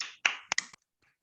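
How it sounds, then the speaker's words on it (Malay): Participants on a presentation skills course clapping, a few sharp, sparse claps in quick succession, close and quiet, then falling silent. "Tepukan."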